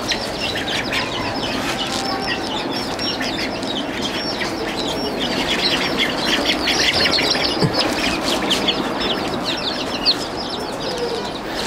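Constant dense chatter of many chicks fills the space, high cheeps and clucks overlapping with occasional wing flutters, steady and fairly loud.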